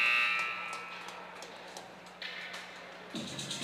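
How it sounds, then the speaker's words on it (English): A loud electronic buzzer ending a period in a junior varsity ice hockey playoff game sounds at the start and fades under arena crowd noise, which swells again toward the end. "And the buzzer sounds"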